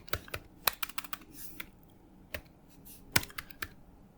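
Rapid clacking of a computer keyboard as code is typed, bursts of close, crisp keystrokes with short pauses, no voice over it.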